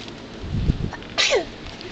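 A single sharp sneeze at an outdoor Easter egg hunt, close and fairly loud, with a brief intake of breath before the burst and faint background noise around it.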